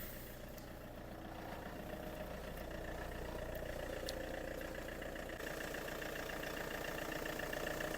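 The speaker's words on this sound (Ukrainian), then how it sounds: "машинка кучненька працює тихенько та рівненько" A 2012 Peugeot Expert van idles with its bonnet open, a steady, even engine hum running unbroken at close range with no talk over it.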